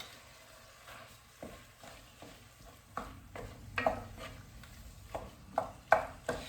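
Ground turkey browning in a pot for white turkey chili, a soft steady sizzle broken by louder scrapes and knocks of a spoon stirring against the pot.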